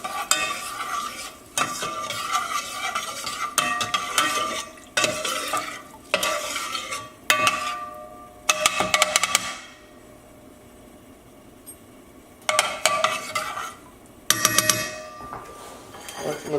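Food stirred in a pot on a kitchen stove, heard as repeated bursts of spoon scraping and clatter separated by short pauses, with a quieter stretch in the middle.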